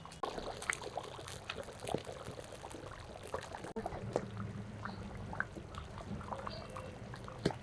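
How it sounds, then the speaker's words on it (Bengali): Soft, faint bubbling and liquid sloshing of a simmering katla fish curry with potatoes, with scattered small plops and clicks as fried fish pieces go in. "এবার ভেজে রাখা মাছগুলো দেব একে একে মাছগুলো দিয়ে দিই"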